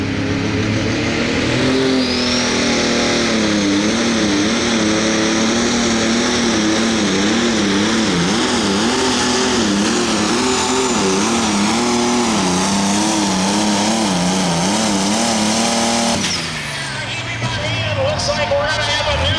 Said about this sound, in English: Here comes the next tractor.